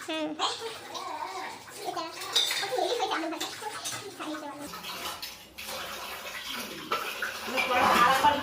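Dishes, pots and pans being washed by hand in a Bengali home kitchen, with clinking metal utensils and running water, under ongoing conversation from a woman and a child.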